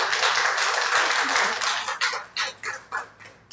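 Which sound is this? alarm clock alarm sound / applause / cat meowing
applause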